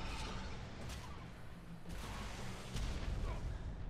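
Gunfire in the video game Ark Survival Evolved, a dense, continuous rumble of heavy shots and booms with a few sharper cracks, loud and unbroken throughout.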